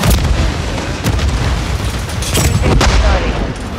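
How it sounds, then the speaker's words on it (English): In a shooter video game, a tear gas grenade bursts amid a dense, continuous barrage of booms and gunfire, loud and close throughout, with no clear single burst standing out. "Throwing tear gas!"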